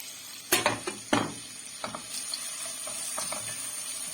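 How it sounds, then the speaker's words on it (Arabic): Onions sautéing in oil and fat in a pan, a continuous soft sizzle broken by a few sharp spoon scrapes and stirring knocks near the start, close by and with no talking. "نشوح بقى البصل بتاعنا تشويحه كده"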